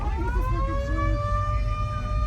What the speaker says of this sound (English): We left the show with style, with the siren blaring.